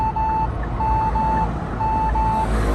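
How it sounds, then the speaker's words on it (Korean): A Hyundai Tucson NX4 hybrid's safe exit assist warning beeps in short pairs as a door opens, over a steady low engine hum, loud and close. "문을 여는 순간 경보가 울리는 시스템이고요"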